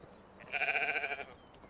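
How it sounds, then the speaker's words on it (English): A flock of sheep in a medieval farming game lets out one short, wavering bleat, faint but clear against quiet background. "look at all them sheep"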